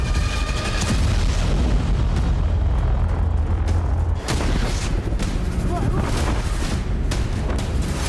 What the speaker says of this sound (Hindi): अचानक एक जोरदार विस्फोट हुआ।